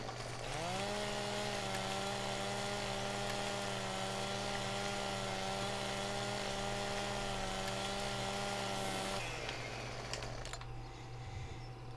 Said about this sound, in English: We will de-limb using the chainsaw.